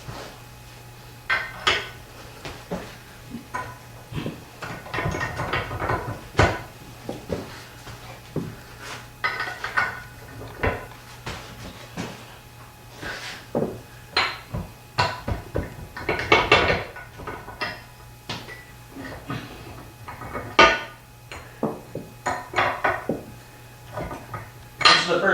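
Metal bolts and yokes handled during assembly of a granite roll base, giving repeated sharp metallic clinks and clatters in irregular bursts, close up, with short pauses between handling sounds.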